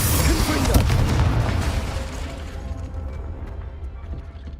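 A Confringo fire spell from the Hogwarts Legacy video game goes off as a loud, rumbling blast, holding strong for about two seconds before trailing into a softer sizzling decay.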